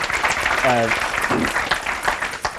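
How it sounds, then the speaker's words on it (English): Audience applause honoring Ruth Levine at a development policy talk, a sustained wash of clapping with a brief voice and tonal sound rising over it midway. "I think we owe her a round of applause"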